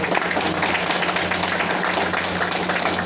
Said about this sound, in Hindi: रिद्धि डायनेमिक के लिए एक बार जोरदार धमाकेदार ताली चाहेंगे